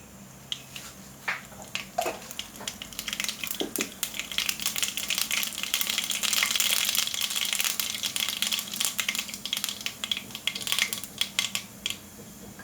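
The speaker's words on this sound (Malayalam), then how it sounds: "കടുക് പൊട്ടി വരുമ്പോൾ" Mustard seeds splutter in hot coconut oil while tempering a tapioca curry: a dense stream of close crackles and pops that swells toward the middle and keeps sizzling steadily, with no talking.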